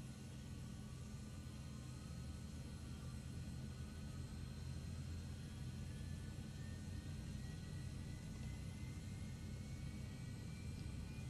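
The engines of an Azurpoly C160 Transall RC model aircraft spool up, a faint, steady roar with thin tones climbing slowly in pitch, heard alone from a distance.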